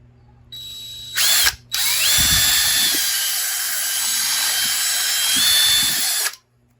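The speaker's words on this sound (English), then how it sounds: "I think I'm going to drill the center out of this" A power drill whirs loudly and steadily for several seconds after a short start-stop burst, drilling out the center of an object, then cuts off abruptly.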